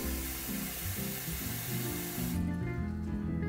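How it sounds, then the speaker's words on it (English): Tap water runs steadily and close into a pot for making coffee on a wood stove, a loud continuous rushing hiss whose tone shifts partway through as the pot fills. "We fill some water in a pot"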